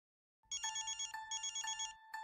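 A telephone rings with a bright electronic ringtone in repeated pulsing bursts, starting abruptly after silence and sounding close and clear in an indoor drama scene.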